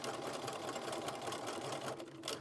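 A sewing machine stitches elastic into a fabric scrunchie, a steady close whirring rattle running throughout with no pauses and no talk.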